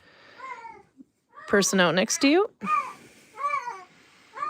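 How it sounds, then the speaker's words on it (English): A Siamese cat meows several times nearby, with drawn-out, voice-like cries mixed in with brief human speech. "Can I interest anybody in a Siamese cat?"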